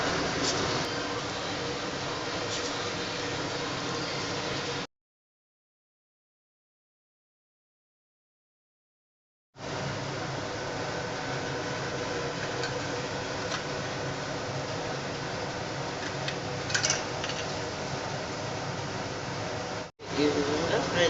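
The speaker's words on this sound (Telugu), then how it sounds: "ఈ విధంగా ఫ్రై చేసుకుంటారు." Fritter batter fries in hot oil, a dense, steady crackling hiss that cuts out for a few seconds midway, then returns at the same even level before a brief drop near the end.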